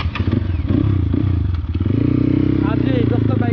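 Motorcycle engines on an off-road group ride up steep hill tracks, a close, loud droning engine that rises in pitch as it revs, with clattering and voices mixed in.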